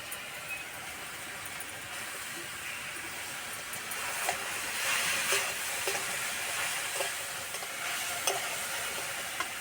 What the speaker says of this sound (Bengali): এবার দেবো ভিজে রাখা ছোলার ডাল।